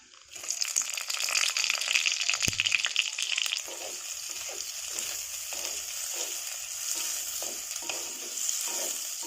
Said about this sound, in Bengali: এরপর দিয়ে দিচ্ছি পেঁয়াজ কুচি।